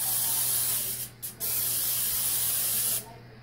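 Cooking spray hisses from a can onto a baking pan for cheesy biscuits, in close, loud bursts: one long spray broken by a brief pause, then a second spray that stops sharply.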